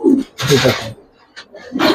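A large female old-generation Giribaz pigeon coos close by in two short, throaty bursts separated by a brief pause.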